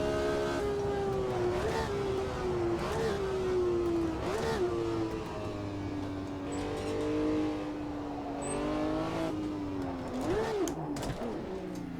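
A car engine on the Nürburgring back straight, shared by the Nordschleife and Südschleife, drones steadily close by with rising and falling revs, then lurches through a botched gear change near the end.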